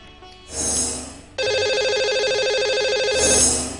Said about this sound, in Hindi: उनको लगाते हैं नंबर और जानते हैं कौन बने हैं आज के हमारे लकी कॉलर।